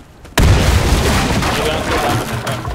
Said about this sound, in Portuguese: Granada! Granada! Granada!